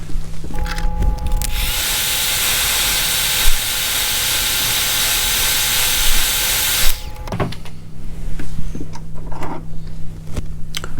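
Airbrush spraying paint onto a Lexan RC car body, a steady close hiss that holds for about six seconds before cutting off, with softer rustling and handling noises afterward.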